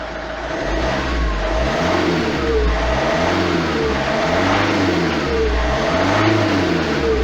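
A 2008 Vauxhall Astra 1.9 CDTI diesel engine with a DPF pressure sensor fault revs repeatedly, loud and close, its pitch rising and falling in regular waves over a constant mechanical drone.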